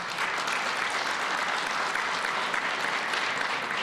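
An audience at a community symposium on violence response breaks into sustained applause, a dense, even wash of clapping hands lasting several seconds with no talking over it.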